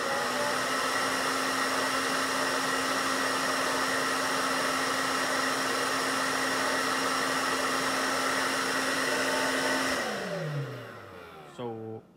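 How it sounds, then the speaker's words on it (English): A hair dryer blows steadily on a model car body for about ten seconds, a loud constant whirring hum, then is switched off and winds down with a falling tone. "We're gonna turn on the fan or on the hairdryer, and we will see what the downforce is."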